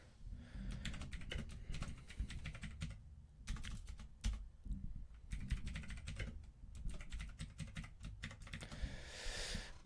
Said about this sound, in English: Let me bring down my keyboard.